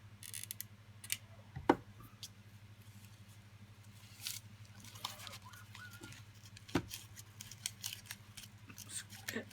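Card strips being trimmed with scissors for handmade card making, heard as sharp, crisp snips spread unevenly over the stretch, with quieter rustling and handling between the cuts. The snips sit over a steady low hum.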